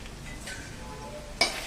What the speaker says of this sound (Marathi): भाजी हलवूया परत